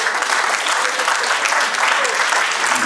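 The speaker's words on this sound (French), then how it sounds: "Je vous prie de vous lever pour qu'on vous applaudisse." An audience at a regional council gathering applauds the women council members, a dense, steady clapping that fills the room throughout, with a voice faintly audible beneath it.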